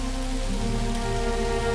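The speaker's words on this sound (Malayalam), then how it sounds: "കോരിച്ചൊരിയണ മഴ." Heavy pouring rain falls in a steady, dense wash that stays loud and unbroken from start to finish, with sustained low tones running beneath it.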